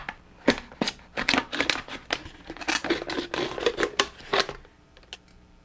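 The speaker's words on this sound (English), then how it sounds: "You want to take a razor or a sharp pair of scissors and cut the neck off." A sharp pair of scissors snips through the neck of a plastic water bottle in a series of crisp, irregular cuts with crackling plastic, close and fairly loud.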